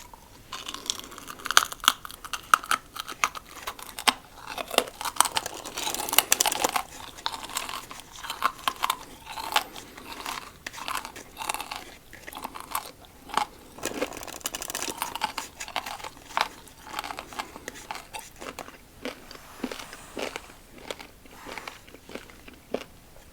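Close, crisp crunching and chewing of hot and spicy pork rinds, with repeated sharp bites and crackles running steadily throughout, no voices.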